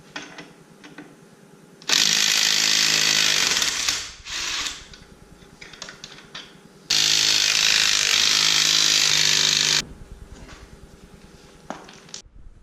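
An impact wrench taking the wheel off a 2000 Chevy Silverado fires in two loud, sustained bursts of several seconds each. Quieter clanks and shop noise fill the gaps between them.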